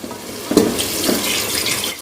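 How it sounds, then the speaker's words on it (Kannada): Water streams into a cooking pot for homemade mutton biryani, a loud, continuous splashing gush heard close up with no talk. "ಇವಾಗ ಒಂದು ಆರು ಗ್ಲಾಸ್ ಆಗುವಷ್ಟು ನೀರು ಹಾಕಿಕೊಳ್ಳೋದು"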